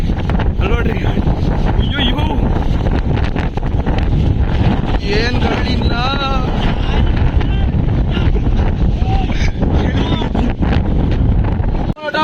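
Strong wind buffets the microphone in heavy, continuous gusts on Mullayanagiri peak in Karnataka, with people talking loudly over the roar.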